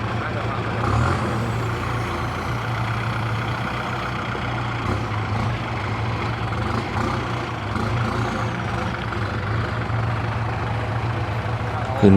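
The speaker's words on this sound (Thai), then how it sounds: "ลองเบิ้ง มันสีขึ้นหรือบ่ขึ้นครับ" A stuck truck's engine revs and labours at length while the truck is pulled out during a recovery, with a steady low drone, a brief swell near the start and people talking over it.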